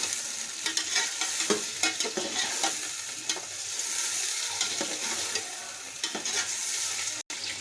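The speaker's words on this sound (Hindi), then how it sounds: "तो चिकन अच्छे तरीके से फ्राई हो चुका है" Chicken and onions frying in a pot while lahori chicken pulao is cooked, a steady close sizzle with scattered clinks and scrapes of stirring throughout, no voices.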